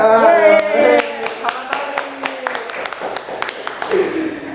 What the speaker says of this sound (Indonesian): tepuk tangan buat saya gak?